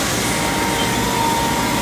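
2006 Haas Super Mini Mill spindle spinning at 5000 RPM, a steady high whine held at one pitch over a broad, even machine hum, close and constant with no voices.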